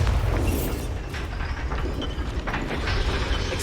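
The Bombarda explosion spell in Hogwarts Legacy sets off a deep, rumbling blast with dense low booms and crackling debris that continues for several seconds.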